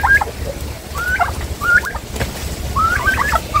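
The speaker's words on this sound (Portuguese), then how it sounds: "Piru não gosta da briga." Turkey gobbling in a poultry pen, several rapid warbling gobbles in short bursts, loud and close against a low background hum.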